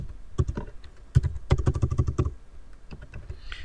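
Someone presses the X key and other keys on a computer keyboard while working in 3ds Max, giving a close, crisp series of clicks in quick irregular bursts.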